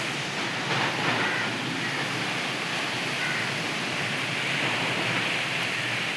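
Strong wind drives rain past a house beside a bending coconut tree, a steady, full roaring rush with gentle swells and no clear voices.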